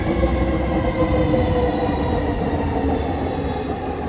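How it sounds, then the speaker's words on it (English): A light rail train rumbles steadily nearby, with a faint metallic wheel squeal over a constant loud roll. "here comes the light rail now on SkyTran"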